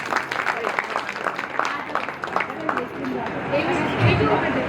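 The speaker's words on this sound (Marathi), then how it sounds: "त्या सगळ्यांसाठी एकदा जोरदार टाळ्या होऊन जाऊ द्या." Guests at an engagement party applaud the dancers, a crowd of hands clapping steadily with chatter and voices mingling underneath and growing busier toward the end.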